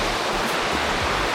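The waterfall in Viktoria Park, Kreuzberg, Berlin, rushes with a steady, dense broadband hiss and roar of falling water. It is loud and continuous throughout, with no talking.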